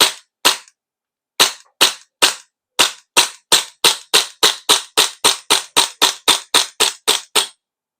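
A KJ Works CZ Shadow TS2 gas-powered airsoft BB pistol fires about twenty sharp, close shots, starting with spaced pairs and then settling into a fast, even string, with silence between each crack.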